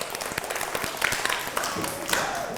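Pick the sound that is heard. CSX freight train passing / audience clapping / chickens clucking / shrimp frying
audience clapping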